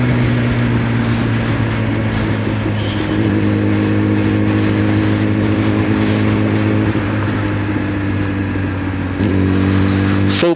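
Sport motorcycles, a Yamaha R6 and a Kawasaki ZX6R, ride along on a sunny day with a steady loud engine drone, the pitch shifting slightly as they go and rising near the end, with no talking.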